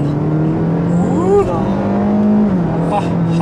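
Honda Jade car with about 90,000 km on it accelerating in S mode on an open road; steady interior engine drone rises in pitch and holds, with a voice speaking briefly over it.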